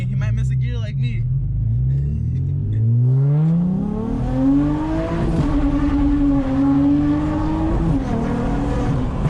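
An Infiniti G35 with a pop tune accelerates hard through the gears, its engine note climbing loudly and steadily up close, with voices talking and exclaiming over the roar.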